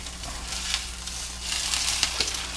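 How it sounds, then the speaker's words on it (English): An egg fries in a hot pan for a ramen topping, giving a continuous close crackling sizzle with small pops and no talking. "So we're going with a fried egg."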